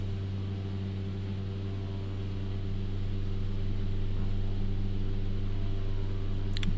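Aircraft in the X-Plane 11 flight simulator rolling down a runway on its takeoff run, a steady droning engine hum with strong low tones that holds throughout and swells slightly louder as it goes.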